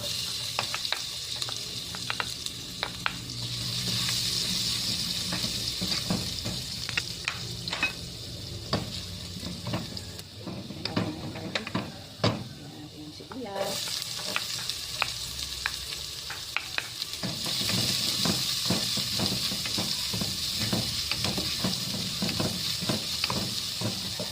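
Sautéing in a pan while cooking Filipino pork menudo: a steady, close sizzle with frequent scraping and stirring clicks from a utensil, continuing for the whole stretch without talk.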